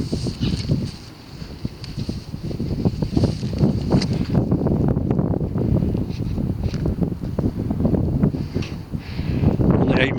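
Strong wind buffets a handheld camera microphone outdoors, a continuous low rumbling roar with gusty surges and brief lulls, no voices.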